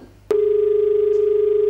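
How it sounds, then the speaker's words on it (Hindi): A loud steady telephone tone sounds after a call to a dental health program drops, starting abruptly after a brief soft noise and holding one unbroken pitch with a faint pulsing. "लगता है फ़ोन कॉल कट गया है"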